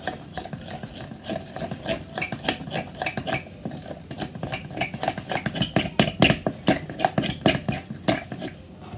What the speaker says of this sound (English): And I'm going to mix it up.